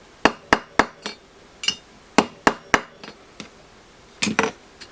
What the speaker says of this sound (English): I'm trying to hammer it a bit, which is bent